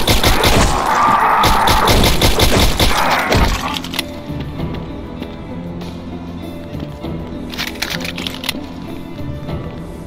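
Pistol gunfire in Doom 2 Reloaded, a dense burst of rapid sharp shots in the first few seconds, then scattered thuds and clicks fading into quieter game ambience.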